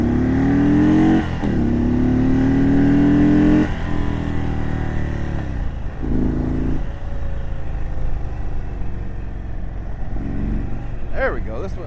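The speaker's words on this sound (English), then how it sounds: "Oh yeah, you can hear that bike coming alive." A 2022 Indian Chief Darkhorse 116 motorcycle engine idles with a steady deep rumble, then revs up and drops back in several throttle blips, close and loud throughout.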